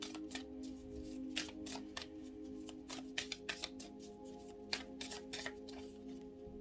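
Oracle cards being shuffled by hand, soft and close, with a series of quick papery riffles and slaps in an irregular rhythm over a faint steady hum.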